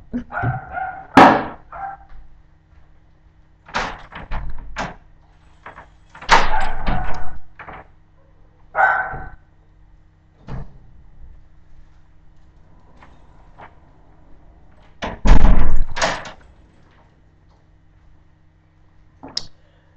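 Dog barking in bursts and a door opening and closing indoors, loud and close, mixed with intermittent talking across a kitchen-like room.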